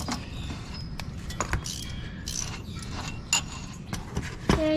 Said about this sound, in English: you come underneath here, loosen this drain plug